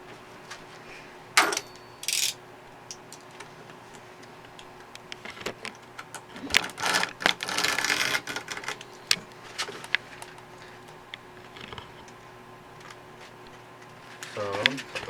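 A straight line is cut across scooter grip tape, giving short scratchy rasps and scraping bursts spread unevenly over a quiet room, with a louder cluster in the middle and near the end.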